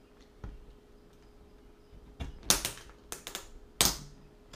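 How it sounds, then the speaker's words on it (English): Sharp metallic clicks and snips of a small blade or shears cutting a hole in the middle of a thin aluminum can to make an alcohol stove, a few close bursts separated by quiet pauses. "So we're gonna cut a hole here"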